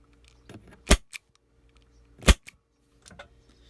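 An Elite Force CO2 airsoft revolver built for close-quarters play fires two sharp, loud pops about a second and a half apart. Fainter mechanical clicks follow in an otherwise quiet space.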